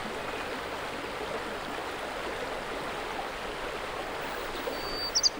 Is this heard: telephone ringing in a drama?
no